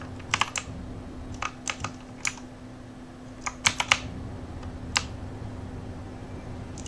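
Loud clicking of a computer keyboard and mouse while playing Space Engineers, with irregular sharp key taps in small bursts and pauses, close up over a low steady hum, no talking.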